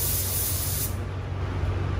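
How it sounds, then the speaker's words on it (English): A paint spray gun sprays clear tint onto a BMW, giving a steady, close broadband hiss that runs through the whole clip with no talk. "When I spray it on there, it's going to have a blue look."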